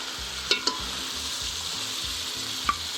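Tomatoes and garlic paste fry in a pot with salt for chicken yakhni pulao, a loud continuous sizzle under brief clinks of a spoon stirring against the pot, no talking.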